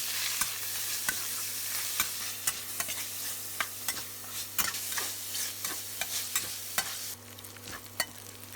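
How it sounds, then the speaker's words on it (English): Minced meat stir-frying in hot cooking oil in a pan, a steady close sizzle broken by sharp, regular scrapes and clacks of the stirring utensil about once a second. "Once the oil is hot, add the minced meat. Stir-fry it quickly until it changes color."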